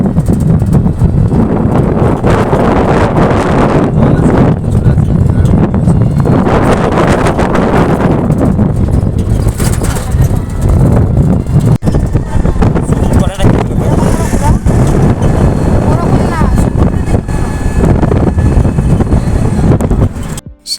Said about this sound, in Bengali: সকালের সমুদ্রের সুন্দর হাওয়া আর আশেপাশের ভিউ দেখতে দেখতে আমরা পৌঁছেও গেছি কোণারকের সূর্য মন্দিরে।